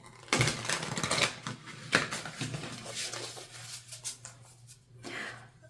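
Tarot cards are shuffled in several quick, soft riffling bursts, close and fairly quiet, with brief pauses between them.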